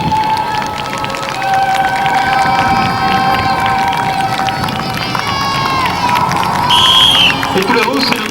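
Crowd noise with cheering and possible applause at a 1990 motorcycle stunt show as a four-motorcycle pyramid forms, a steady dense roar throughout with shouts and whistles rising near the end.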